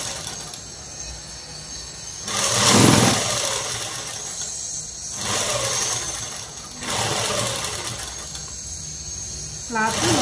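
Sewing machine running in bursts while stitching a long frock dress, its motor whirring in three or four stretches with pauses between, fairly close, under occasional speech.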